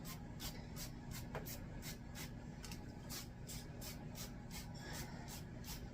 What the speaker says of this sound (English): we just want to spray the top with oil